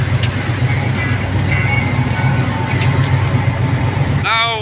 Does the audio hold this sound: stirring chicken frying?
no